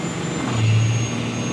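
A Cummins 5.9 diesel with a compound turbo at 50 psi boost runs with a steady, loud, low drone and a faint high turbo whistle above it, holding even without revving.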